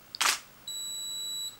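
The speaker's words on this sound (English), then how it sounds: "Simply press the shutter release" A camera shutter release fires with a single sharp click, followed by a steady high electronic tone from the flash lasting under a second, heard close and alone in a quiet room.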